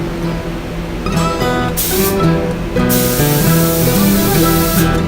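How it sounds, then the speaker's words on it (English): A spray gun sends finish onto an 18-string harp guitar in bursts of loud, close hissing spray, with a steady motor-like drone running underneath throughout. "when I start spraying, I get a lot of overspray on my sleeve"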